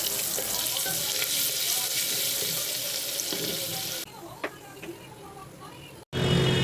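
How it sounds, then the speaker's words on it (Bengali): Ground spice paste frying in a hot tempering in a clay pot for chicken, with a dense, steady sizzle for about four seconds that then drops to quieter crackles and a few clinks, heard close and without talking. "যে মশলাটা মিক্সিতে বেটেছিলাম সেইটা এবার ওই ফোড়নের মধ্যে দিয়ে দেব দিয়ে এটা এবার কষাতে থাকবো"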